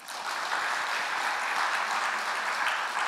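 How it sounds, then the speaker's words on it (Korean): A church congregation at a Sunday afternoon Baptist service in Pohang breaks into dense, steady applause, loud and sustained throughout with no speech over it. "감사의 박수 한번 드립시다"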